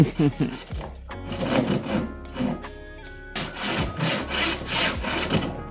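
Wood being sawn by hand to cut a bow stave down to size, with rhythmic back-and-forth strokes that are close, fairly loud and uneven in pace.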